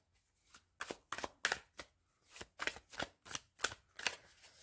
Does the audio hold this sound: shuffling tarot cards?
yes